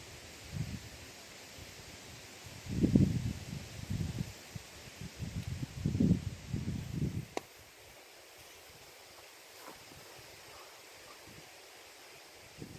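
Gusty outdoor wind buffets the microphone in low, uneven rumbling bursts for about seven seconds, then drops to a faint, steady background hiss.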